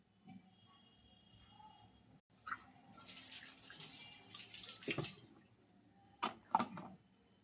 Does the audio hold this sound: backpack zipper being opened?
no